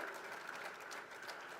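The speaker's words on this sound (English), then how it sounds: "Can we clap in a very nice way for Dr." Audience applause for the keynote speaker at a girls' empowerment event in Uganda, heard as a steady, fairly faint wash of clapping from a distance, with no pauses.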